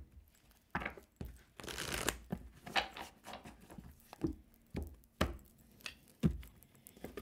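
Tarot cards handled and shuffled at a table, a string of soft papery riffles, slaps and taps in an irregular rhythm, close and fairly quiet with no speech over them.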